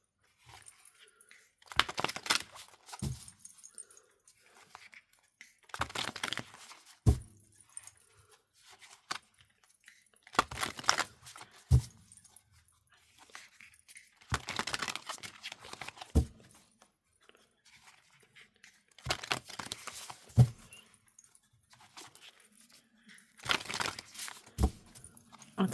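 Tarot cards being shuffled and pulled from a deck, giving soft crinkly bursts of card handling that come and go in short clusters across the span, close and fairly quiet with no talking.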